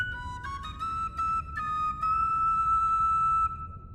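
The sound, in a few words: Wildland Whistle tune in video game The Bard's Tale IV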